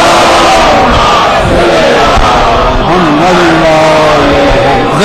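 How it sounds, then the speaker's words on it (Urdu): A large congregation at an Eid-e-Ghadeer celebration at a Chicago Islamic center loudly chanting religious slogans in unison, a dense, continuous roar of many voices filling the hall throughout. "میں نے مومنین سے کہا تھا کہ باواز بلند نعرے سلوا دیجیے"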